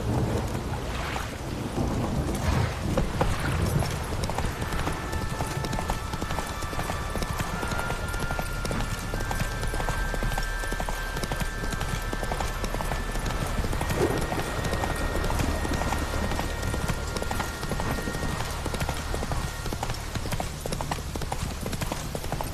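Geralt's horse Roach gallops hard in The Witcher 3, a fast, dense drumming of hooves that runs continuously and loud over a roaring, stormy wind-and-rain bed with faint music.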